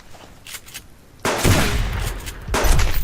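Gunfire in the video game Subsistence: a loud, sudden burst of rapid shots breaks the quiet, then continues as sustained firing with a second surge near the end.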